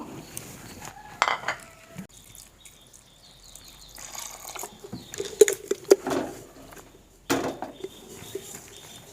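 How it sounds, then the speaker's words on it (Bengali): Dry dal and then a little water go into a pressure cooker for cauliflower dal, giving scattered clinks and rattles of metal and a few splashy pours, fairly close and quiet with no talk. "এবার ডালটাকে আমি প্রেসার কুকারে দেব, দিয়ে একটা সিটি মেরে নেব। অল্প করে জল দেব।"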